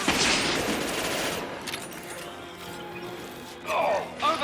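Heavy gunfire in Mass Effect 2 on Insanity difficulty, rapid sustained automatic fire loud and close at first, easing off, then another sharp burst of combat noise near the end, with voices under it.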